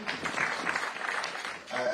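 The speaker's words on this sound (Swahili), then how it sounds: "Lucy, tupigie Lucy makofi" An audience at a public forum on disability in Kenya claps in a brief burst of applause that swells again at the end, with a voice speaking over it.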